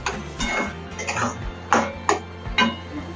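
A utensil stirs ash gourd curry with ghee in a pan, making several sharp scraping clinks at uneven intervals, with a faint low hum beneath.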